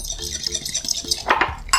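A fork whisking milk and cornstarch in a small dish, rapid close clinking and scraping strokes against the sides, steady and alone without speech.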